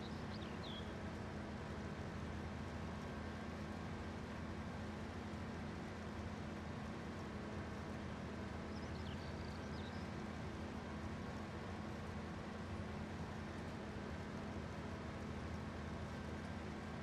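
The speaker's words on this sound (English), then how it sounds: "tractor's starting to make its way to combine now" A tractor in a farming video game drives over to a combine, its engine a steady, low, droning hum with a faint tonal whine that stays even and unbroken throughout.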